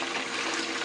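Water running steadily through a bucket sluice concentrator on a recirculating setup, a close, continuous wash and trickle with no pauses and no voices.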